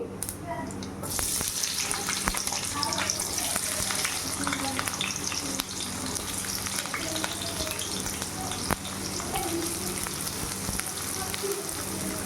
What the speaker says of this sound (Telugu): ఇప్పుడు ఆనియన్స్ వేసేసుకోవాలి.